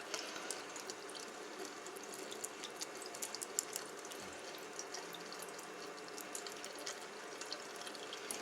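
Water runs from a tap while a makeup brush is rinsed, a soft continuous stream with light splashes throughout.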